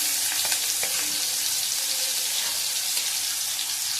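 Chopped onion and a bay leaf frying in a pan, a steady close sizzle with a few soft stirring scrapes and clicks running through, no voices.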